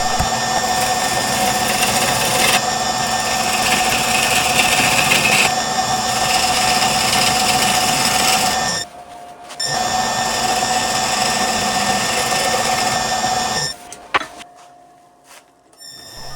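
Loud, steady whirring of a lathe turning down a wooden lid with a scraping cut, pausing briefly midway, then resuming before winding down near the end.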